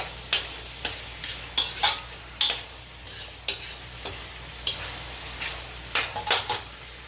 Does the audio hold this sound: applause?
no